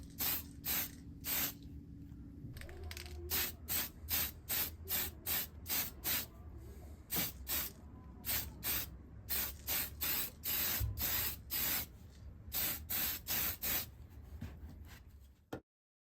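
A spray can hisses in repeated short bursts in a homemade spray booth while painting a 1/25 scale Dodge Charger model, the puffs coming in quick rhythmic groups close up, with a faint fan hum underneath.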